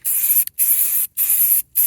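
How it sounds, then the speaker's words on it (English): Bursts of spray paint hiss from an aerosol can in three long sustained blasts separated by short pauses, close and loud with no talk. "I only have about half a can left of this spray paint, so I'm hoping I have enough."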